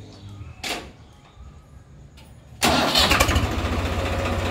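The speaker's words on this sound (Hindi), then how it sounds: "क्या शानदार आवाज़ है भाइयों, स्वराज तो स्वराज ही है, मज़ेदार आवाज़ है" Swaraj tractor engine cranking briefly, then catching and settling into a loud, close, rumbling idle with a steady throbbing pulse, after a quiet start broken by a couple of short knocks.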